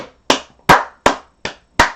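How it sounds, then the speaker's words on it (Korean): Studio audience on a Korean TV variety show giving five sharp, evenly spaced claps, each a crisp loud burst with a short decay, with no talking over them. "박수 한 번씩."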